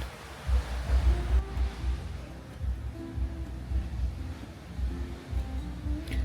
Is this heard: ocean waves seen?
yes